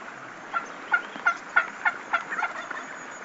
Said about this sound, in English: we found this old gobbler on the other side of a fence, and he was fired up.